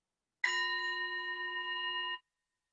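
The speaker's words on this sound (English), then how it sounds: "So I'm going to ring the bell as I always do." A meditation bell struck once at the start of a worship service, ringing a clear, steady tone with bright overtones that sustains for nearly two seconds before cutting off, heard alone.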